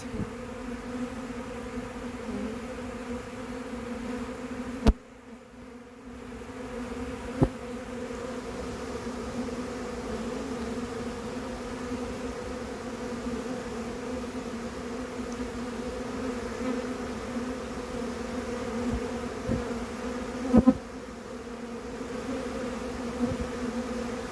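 Dense, steady buzzing of a large swarm of honey bees clustered at a hive, a continuous drone holding through the whole stretch with a few brief louder bumps and clicks nearby.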